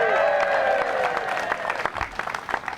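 A crowd cheers and applauds at an outdoor park lighting and infrastructure celebration, loud, steady clapping with whoops and a rising shout at the start, slowly thinning out.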